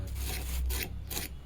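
Crispy deep-fried Bengali potato chops are crunched up close in three short, crackly bursts with brief pauses between them, with no voices.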